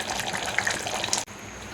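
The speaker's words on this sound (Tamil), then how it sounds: "இந்த நேரத்தில் நான் தண்ணி சேர்த்துக்கிறேன்." Water poured into a pot of chicken curry boiling on a high flame, a steady splashing gush that runs for over a second and then cuts off abruptly, leaving a quieter simmering hiss.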